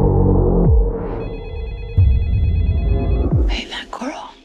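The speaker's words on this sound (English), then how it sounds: "Hey, baby, your phone is ringing." A mobile phone rings with a bright trilling ringtone in a steady repeating pattern, heard over a low droning background and voices from a dramatic film scene.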